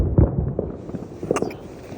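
A few fireworks burst in quick pops at an outdoor celebration, one sharp report near the start and another softer crackle later, with no one talking.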